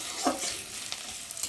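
Onion frying in a pan until soft, before okra is added, giving a brief close sizzle broken by a couple of light stirring scrapes.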